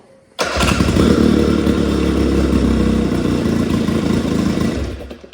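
A primed 2024 Nova engine catching and firing up abruptly after a quiet moment, then running loud and steady with a rough, lumpy idle and some clatter, close by, fading slightly at the end.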